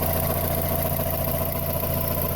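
A 1990 Mazda Miata engine idles steadily at close range, a constant low rumble with no change in pitch and no voices.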